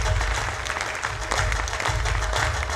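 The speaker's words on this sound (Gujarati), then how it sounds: "please give a big round of applause" Steady applause from a crowd at a cooperative credit society's annual general meeting, honouring a staff member; dense continuous clapping at moderate loudness throughout.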